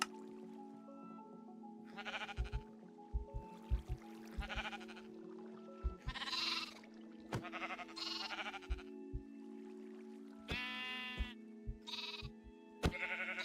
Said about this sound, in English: we have 6 sheep